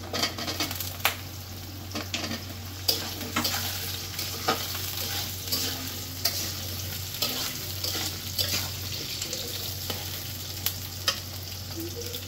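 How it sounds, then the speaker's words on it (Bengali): Onion and potato pieces frying in oil in a pan, a continuous close sizzle broken by repeated scraping stirs and light utensil knocks against the pan. "এই যে পেঁয়াজ আলুটা হালকা হালকা ভাজা হয়ে গেছে"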